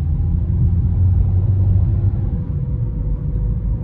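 A 2017 Honda Accord cruises at speed, a steady low rumble of road and engine noise heard from inside the car.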